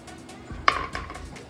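A kitchen bowl being picked up and set down before melting fondant in a microwave: a single clear clink with a short ringing tail, close and quiet, followed by faint handling noise.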